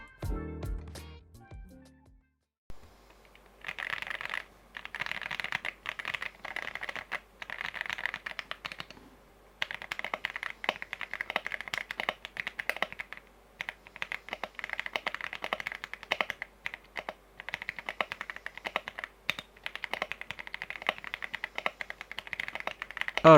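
Typing on a MonsGeek M1 mechanical keyboard with an aluminium case, fully built with switches and keycaps: a steady run of close, crisp keystrokes with varied rhythm, including brief pauses, and no talk over it.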